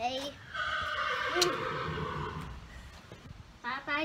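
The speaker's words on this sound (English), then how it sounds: "There's like dozens of horses, and Henry's just having a horse hunt" A horse neighs close by at Castle Leslie, a long rising-and-falling whinny, with a voice chiming in briefly at the end.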